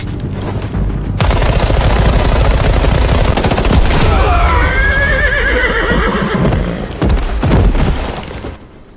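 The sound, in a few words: gunfire and horses whinnying in an animated drama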